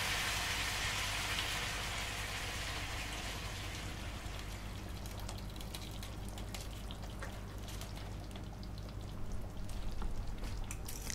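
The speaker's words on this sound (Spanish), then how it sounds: "Una vez doradito por igual, echamos 800 gramos de tomate triturado." Crushed tomato, 800 grams, poured into a pan of browned chicken, giving a steady wet rushing pour with sizzling frying underneath, continuous and close, with a brief louder splatter near the end.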